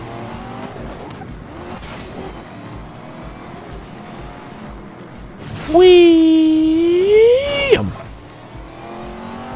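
A Bugatti Veyron in the racing video game Need for Speed Most Wanted surges forward with a loud rising engine whine that climbs and holds for about two seconds before dropping off, following a quieter stretch of driving noise with talk.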